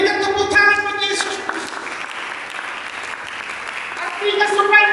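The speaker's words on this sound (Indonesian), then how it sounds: "Mari kita berikan tepuk tangan bagi Yesus." Applause from a church congregation during a sermon, a sustained crowd clapping wash that swells at the start, holds steady, then rises again at the end, mixed with the preacher's voice and musical tones.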